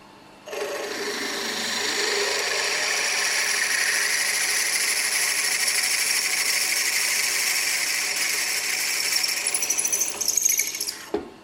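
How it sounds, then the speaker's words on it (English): An electric drill bores a hole in a metal plug on a manual milling setup, giving a steady high-pitched whine that holds for about ten seconds before winding down. "Now, my drill's probably running a little bit fast for this"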